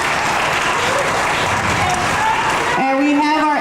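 Applause from an audience at a school African-American History event, a loud, dense clapping wash that gives way to a voice speaking over amplified sound in the final second.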